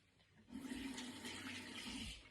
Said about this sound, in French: Je me rince un peu les mains et je vous montre.